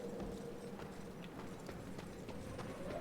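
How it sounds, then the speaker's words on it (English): The red horse of War trots in Darksiders, rhythmic clip-clop hoofbeats at a steady pace, faint and close, over a low background hum. "War does ride a red horse"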